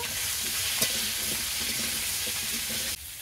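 Potatoes fry in hot oil for curry, a loud, steady sizzle with faint stirring scrapes underneath, cutting off abruptly near the end.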